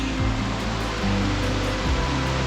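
River rapids rush through the New River Gorge, heard from a trail as a loud, steady broadband roar of water with no talking.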